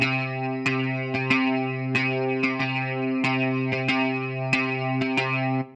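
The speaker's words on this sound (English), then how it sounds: "This is Iron 2, the guitar plugin, right, from UJAM." UJAM Iron 2 virtual guitar plugin plays solo: distorted, effects-laden chugging chords with sharp rhythmic attacks in a punk rock style, loud and close, with no talking.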